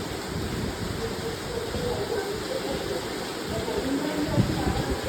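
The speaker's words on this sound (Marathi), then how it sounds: "जोरात पाऊस" Heavy rain roars steadily close by, a thick continuous wash of water noise with no voices.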